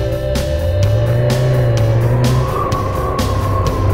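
A Honda CB750 motorcycle riding on a road, its engine droning steadily close by as the pitch climbs and shifts, with no talk over it.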